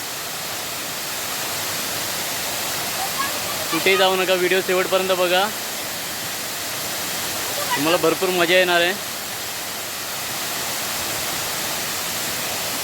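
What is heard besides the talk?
tall waterfall up close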